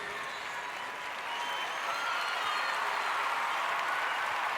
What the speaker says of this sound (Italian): L'applauso arriva spontaneo, sì?